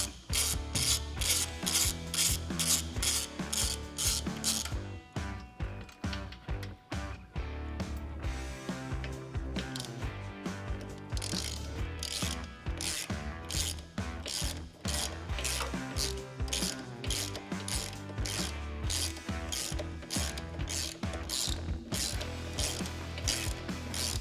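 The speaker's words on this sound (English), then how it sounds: "We're gonna go ahead and remove these two screws right here on your subframe." A ratchet fitted with a T45 Torx bit clicks rapidly and continuously as screws are backed out of a Harley-Davidson subframe, dense metallic pawl chatter close up with brief pauses between bursts, no voices.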